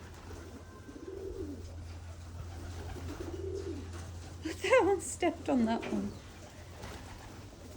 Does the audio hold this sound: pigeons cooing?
yes